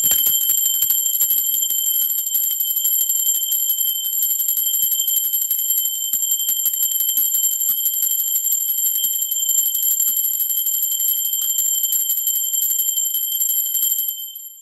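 A sustained, shimmering metallic ring holds steady at full volume for about fourteen seconds, like a bell left resonating, then cuts off abruptly at the end.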